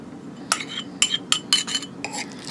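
Two beaten eggs being mixed in a bowl for spinach pie, utensil clinking against the dish in a series of short, fairly close taps and scrapes, irregularly spaced with no talk.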